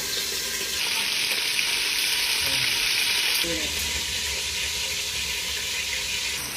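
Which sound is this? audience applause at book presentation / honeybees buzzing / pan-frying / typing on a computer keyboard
pan-frying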